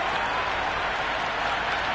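A stadium crowd applauds and cheers in the Cricket 26 video game during an IPL final match, a steady, loud wash of clapping filling the whole moment without a break.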